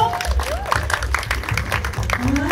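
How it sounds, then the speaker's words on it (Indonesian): Audience applause at an Indonesian film event, steady clapping mixed with crowd noise and voices throughout, fairly close and moderately loud. "Wow, tepuk tangan dong buat Bang Jo."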